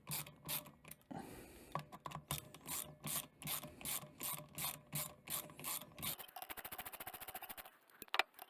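Ratchet clicking in steady repeated bursts as the clutch basket bolts on a Suzuki TS250 race engine are undone, close and fairly quiet, ending with a faster run of clicks.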